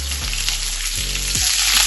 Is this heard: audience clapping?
no